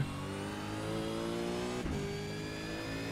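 A race car accelerating out of a curve on the Daytona road course, its engine note climbing steadily and loud, briefly dipping at an upshift before rising again, with no talk.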